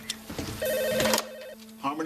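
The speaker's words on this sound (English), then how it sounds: "Hank, come on, pick up the phone." A telephone rings in an indoor scene, with electronic trilling tones repeating through the short stretch while voices talk over and around the rings.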